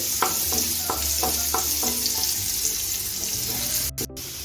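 Chopped garlic fries in oil in a non-stick pan, giving a continuous bright sizzle with a string of regular spatula taps in the first half, then a short break near the end. Nobody speaks.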